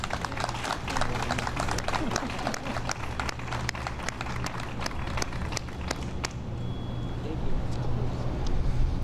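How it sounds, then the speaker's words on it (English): Audience applause for a pizza place owner named as a grant finalist at a Little Village neighborhood fund event: dense, steady clapping that runs throughout and swells slightly near the end. "A round of applause for Domingo."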